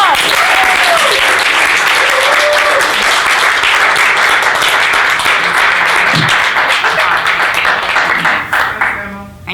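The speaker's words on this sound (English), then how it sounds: "Let's give her a round of applause" Loud, sustained audience applause for someone speaker at a career talk, dense clapping filling nearly ten seconds before tapering off at the end, with a faint voice briefly audible.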